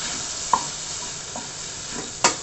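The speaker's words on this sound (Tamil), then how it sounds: "திருப்பி நல்லா வதக்கிக்கோங்க சிம்மில் வச்சு." Vegetables with chili powder and turmeric stirred and sautéed in a pan over low heat for brinjal and drumstick kara kuzhambu, giving a few soft scraping stirs over a faint steady sizzle.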